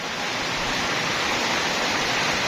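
Heavy rain pouring steadily onto a market stall, a dense, even hiss of falling water with dripping mixed in, constant and fairly close with no voices.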